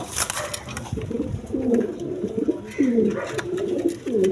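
Several pigeons coo repeatedly at a farm, soft throaty rolling calls close by, overlapping in short bursts with light background noise.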